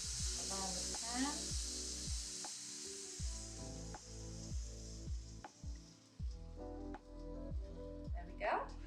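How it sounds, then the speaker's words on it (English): Eggs sizzle in a frying pan over melted cheese for a budget frittata, a steady close frying hiss running throughout beneath a person talking. "at this point we just add the eggs in, nice and evenly"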